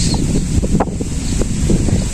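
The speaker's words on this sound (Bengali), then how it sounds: "প্রচন্ড বাতাস" Strong wind in a Bangladeshi village buffets the microphone with a loud, low, continuous rumble and roar, no voices.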